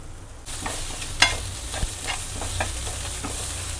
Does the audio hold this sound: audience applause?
no